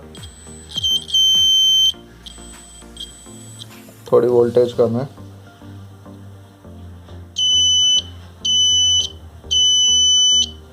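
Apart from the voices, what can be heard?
electronic buzzer beeping powered from a DC power supply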